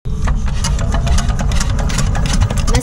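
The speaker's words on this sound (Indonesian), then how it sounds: "mesin kompresor" A motorized air compressor runs on a boat, feeding air through a hose used for breathing while diving. The engine drones loud, steady and close for the whole stretch, with no one speaking.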